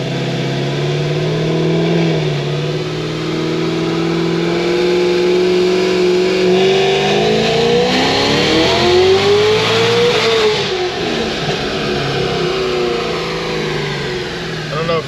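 A 1150HP Cadillac CTS-V engine pulls hard and loud, its pitch climbing steadily then dropping and rising again through gear shifts, up close and continuous for the whole stretch.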